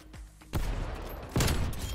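Gunfire in the Call of Duty Black Ops Cold War video game: two sharp blasts, each trailing into a dense, sustained rumble of shots and explosions, loud and close with no talking.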